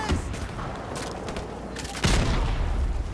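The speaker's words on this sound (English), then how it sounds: "That fucker threw a grenade." A grenade blast and rifle fire in Modern Warfare Remastered, with steady battlefield gunfire throughout and a heavy, booming explosion near the middle, loud and close.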